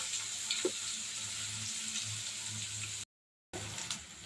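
Mustard seeds sizzling and popping in hot oil, a faint, steady crackle with a few sharper pops and a brief dropout near the end, no talking.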